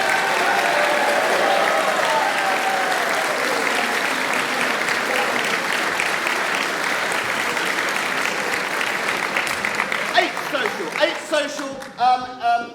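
Loud, sustained applause and cheering from an audience at a 2021 inter-social partsong competition, dense clapping that gradually thins into scattered claps, with voices and chatter emerging near the end.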